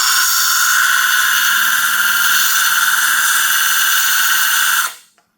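A small belt sander works on channel letters with a steady, loud high-pitched whine and grind, close by and unbroken for about five seconds before cutting off abruptly.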